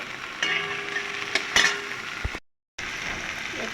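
Black cumin seeds, chopped onion, tomato and slit green chillies sizzle in hot oil in a pan, with a steady crackling fry, a few stirring clicks, then a brief silent gap before the sizzle resumes.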